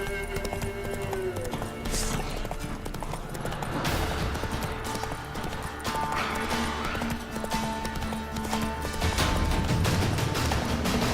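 A horse galloping in the video game Witcher 3, with rapid hoof clip-clops running steadily over a busy game soundscape and a brief rider's voice.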